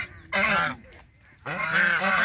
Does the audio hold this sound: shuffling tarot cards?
no